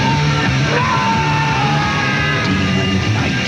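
Loud, sustained yelling and shrieking from several voices in a horror movie trailer, dense and chaotic throughout, with no spoken words.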